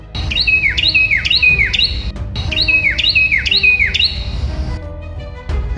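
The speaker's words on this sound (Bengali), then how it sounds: "হঠাৎই পাখিটি চিৎকার শুরু করলো" A cartoon bird in a Bengali fairy-tale animation gives repeated shrill, sweeping screeches in quick bursts, loud and close, with a short pause midway before the cries resume, set over a low musical background.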